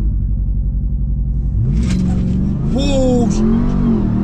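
Ram TRX pickup truck in launch mode, a loud deep idle rumble that swells into a rising engine rev partway through, with an excited voice exclaiming over it.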